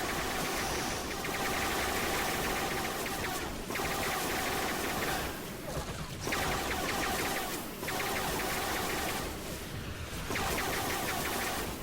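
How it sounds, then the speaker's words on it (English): Castle siege battle in the video game Disney Infinity, with dense, continuous explosions and gunfire-like crackle over a steady roar, dipping briefly a few times before surging back at high intensity. "We're getting explosions"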